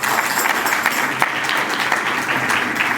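A large crowd at a midnight Christmas church service applauds steadily, dense clapping filling the space without a break, loud and close.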